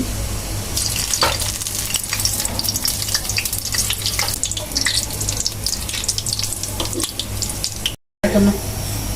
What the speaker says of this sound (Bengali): তেল দিয়ে দেবো আমি আমি মরিচগুলো দিয়ে দেবো প্রথম